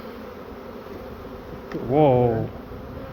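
Bees hum around an open hive, a faint steady buzz underneath until a person's brief exclamation rises over it.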